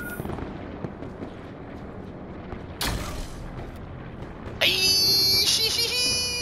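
Gunfire from a Vendetta gun in a shooting video game, with a sharp loud blast midway followed by a dense burst of bright, ringing shots near the end over steady background noise.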